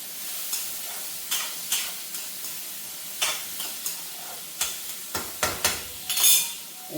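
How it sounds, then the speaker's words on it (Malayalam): Bitter gourd mezhukkupuratti is stirred in a pan over a soft steady sizzle, with a spoon scraping and tapping the metal at irregular intervals, close and fairly quiet. "അപ്പം നമുക്ക് നമ്മുടെ പാവയ്ക്ക മെഴുക്കുവരട്ടി ഒന്ന് ഇളക്കി കൊടുക്കാം"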